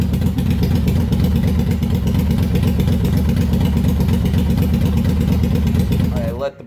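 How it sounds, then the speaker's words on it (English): A 1988 Yamaha Virago 1100 motorcycle idling while warming up, a loud, steady, close engine rumble with a chugging pulse that cuts off abruptly at the very end. "I let the bike warm up for a while."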